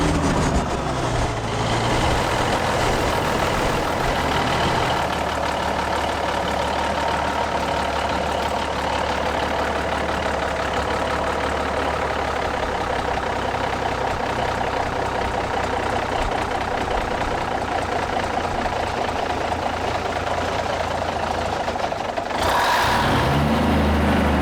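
A Kenworth truck's diesel engine idling nearby, a loud, steady low rumble that holds evenly for over twenty seconds with a brief change near the end and no speech.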